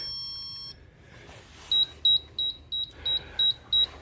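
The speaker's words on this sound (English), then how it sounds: "Now each of these beep segments do annotate altitude for previous flight" A model rocket altimeter runs through its test cycle, giving a string of seven short, evenly spaced electronic beeps, clear and close, over a quiet background.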